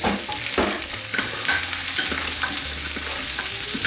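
Fennel and onion frying in oil in a couscoussier for lamb couscous, a steady close sizzle with repeated scrapes and clinks of stirring, no voices.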